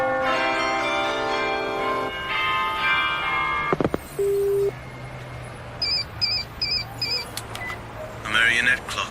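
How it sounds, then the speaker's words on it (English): Several bright, ringing chime tones from a marionette clock ring out near the start, followed by scattered beeps, clicks and short electronic sounds. "A marionette clock. I'm sure that's what that sound was."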